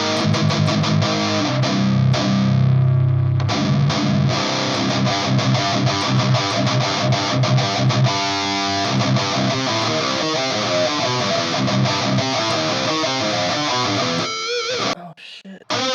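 Electric guitar played through a Behringer UM300 Heavy Metal distortion pedal with a tube screamer in front, lower gain, sustained thick distorted chords ringing loud and steady before cutting off abruptly near the end.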